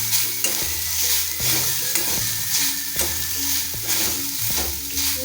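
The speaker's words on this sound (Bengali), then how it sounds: "একটু নেড়ে চেড়ে নেবো।" Grated coconut is stirred in a hot wok (kadai), a spatula scraping in a steady rhythm over a continuous sizzle, close and fairly loud.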